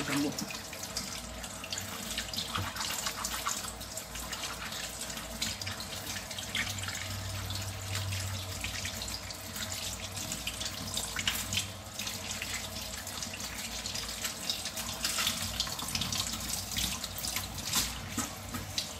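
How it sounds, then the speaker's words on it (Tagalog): Running tap water pours steadily over bilimbi (kamyas) fruit being washed in a kitchen sink, a continuous even splashing hiss that holds for the whole stretch with no talking. "Tapos hugasan din natin yung kamyas."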